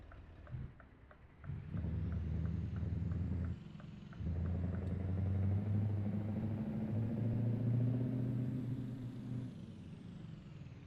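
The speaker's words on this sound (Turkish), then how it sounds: "Rölanti'den normal bir ses geliyor. Basınca kükrüyor." Scania S580 truck engine in Euro Truck Simulator 2, a deep steady idle rumble that swells into a louder, rising roar as the throttle is pressed, then settles back, heard alone and fairly close.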